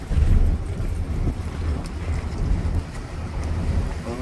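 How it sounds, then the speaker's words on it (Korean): Outdoors by the water, wind buffets the microphone with a steady low roar and rumble. It gusts a little stronger at the start, then holds constant, with no other sounds standing out. "경치 좋고 바람이 조금 불긴 한데"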